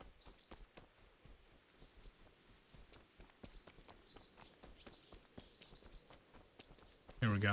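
Horse hooves clip-clop in the video game Kingdom Come: Deliverance, a steady run of sharp, evenly spaced clopping beats at moderate distance, ending with a sudden loud burst of game noise.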